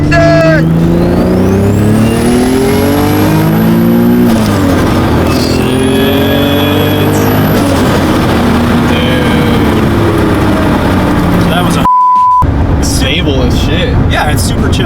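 A turbocharged right-hand-drive Acura NSX accelerates hard, the engine roaring and rising through the gears with turbo whistle and brief drops at shifts. It is very loud and close, interrupted once by a short beep tone.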